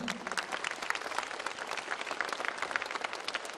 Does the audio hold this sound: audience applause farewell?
yes